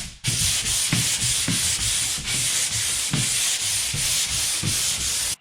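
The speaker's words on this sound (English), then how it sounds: "And you just want to go ahead and sand." Pole sander rubbing over drywall mud on wood paneling, a loud continuous rasping hiss with a regular back-and-forth stroke rhythm, close and without speech.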